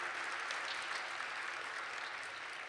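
Steady applause from a banquet crowd honoring award winners and nominees at a chamber of commerce awards dinner, a dense even patter of many hands sustained throughout.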